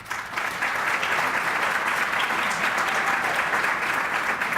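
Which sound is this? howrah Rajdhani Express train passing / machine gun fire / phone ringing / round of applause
round of applause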